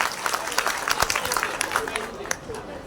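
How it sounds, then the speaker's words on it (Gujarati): A village crowd applauds at an honouring ceremony for a young sarpanch, scattered claps rising over murmuring voices, moderate in level and fading toward the end. "ખૂબ ખૂબ તાળીઓથી સ્વાગત કરીએ"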